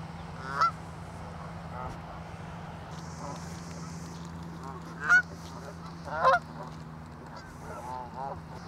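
Geese and ducks honk and chatter at close range outdoors. Several loud honks stand out over a steady low murmur of softer calls, with a faint background hum.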